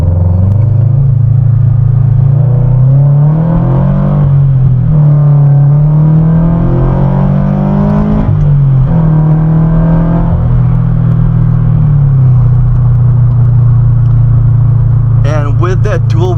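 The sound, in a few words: modified sports car accelerating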